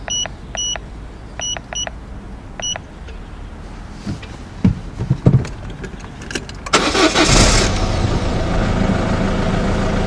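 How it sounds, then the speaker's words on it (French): Several electronic beeps sound, then a starter cranks briefly before a car engine catches and settles into a loud, steady idle. "je vais démarrer le véhicule."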